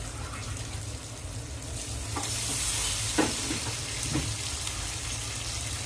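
Chicken pieces go into a pan of spiced masala with turmeric and chili powder and a little water, sizzling steadily and frying, with a few sharp stirring clatters and no talking.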